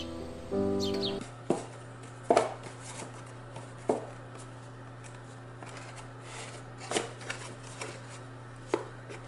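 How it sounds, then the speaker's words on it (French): A blade cuts through a milk carton being turned into a bird feeder, making a few sharp, separate crisp snips over a steady low hum, close and quiet, with no talk. "je vais couper pour enlever la ligne noire complètement"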